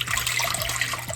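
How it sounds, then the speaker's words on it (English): Water runs into a cooking pot over carrots as a steady splashing pour, fairly close and loud, with no voices over it. "We're gonna add enough water so that we can submerge our carrots."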